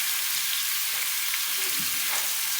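Carrots cook in a pan with a loud, dense, continuous sizzle that briefly flares as a small splash of water hits the hot surface.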